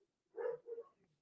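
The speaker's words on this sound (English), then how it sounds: "my dogs are going nuts outside. I can hear them downstairs and all that." Dogs outside, heard from downstairs, give two quick muffled barks that sound faint and distant through the walls.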